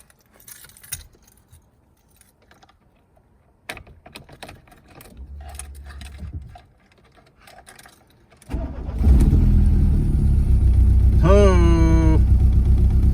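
A Mk2 VW Jetta with a 1.8 engine, idle for over ten years, is cranked and fires up after clicks and keys jangling, then settles into a loud, rough idle with a major exhaust leak.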